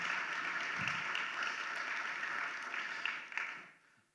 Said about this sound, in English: give a big round of applause for all of the presenters and the speakers who have given their time today